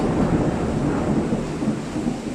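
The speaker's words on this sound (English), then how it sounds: "Thunder." Thunder rumbles through a heavy downpour seen from a balcony, a loud, steady low roar blended with dense rain noise and no speech.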